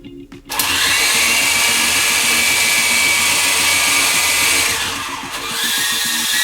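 Small World Tech Toys Grizzly 3.5-channel RC toy helicopter rotors spinning up to a loud, steady high-pitched whine that holds nearly constant, dipping briefly before picking back up, close to the listener with no talk.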